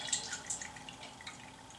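Canned tomato juice poured from the can into a soup pot, a faint, close liquid trickle with soft dripping splashes over about two seconds, no talk.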